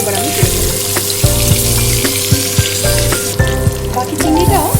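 Prawns frying in hot oil make a loud, continuous sizzle broken by repeated clinks and scrapes of a utensil against the pan, close up, with no one speaking.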